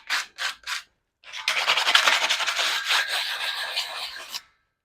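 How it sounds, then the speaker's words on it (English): A piece is scuffed up by rubbing, as with sandpaper: three short rasping strokes, a pause, then a longer run of rapid scratchy rubbing up close, ending abruptly. "We'll just give these a bit of a scruff up."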